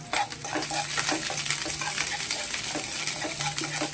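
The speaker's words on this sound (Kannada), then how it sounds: "ಈರುಳ್ಳಿ ಹಾಕ್ಕೊಳ್ಳೋಣ ಮತ್ತು ಹಸಿಮೆಣಸಿನ್ಕಾಯಿ ಹಾಕ್ಕೊಳ್ಳೋಣ. ಎಲ್ಲವನ್ನು ಚೆನ್ನಾಗಿ ಫ್ರೈ ಮಾಡ್ಕೊಳ್ಳೋಣ." Chopped onion and green chili fry in hot oil for a chicken sambar, a constant close crackling sizzle with faint stirring clinks and no speech.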